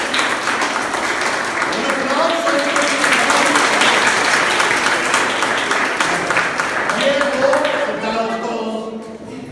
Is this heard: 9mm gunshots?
no